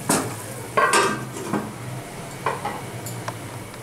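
Pieces of bhagon fish go into a simmering Bengali-style potato and vegetable curry pot, making a few close clunks and soft splashes over a faint background bubble.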